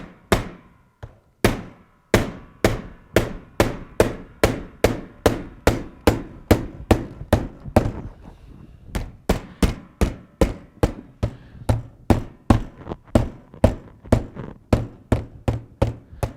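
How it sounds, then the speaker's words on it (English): Steady, repeated thuds of a rubber mallet tapping an Andersen fiberglass window mull, dozens of firm strikes in a brisk even rhythm with a brief pause partway through, close and loud. "And then we'll use a rubber mallet."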